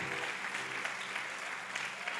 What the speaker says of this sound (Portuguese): Vamos dar um aplauso ao Senhor